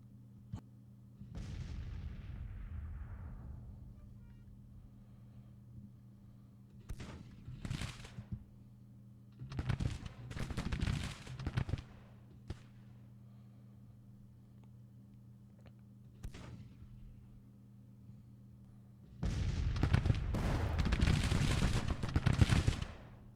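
Cannon fire in the Civil War strategy game Grand Tactician, coming as several separate booming volleys with quiet gaps between them, ending in a longer, heavier barrage. No voices.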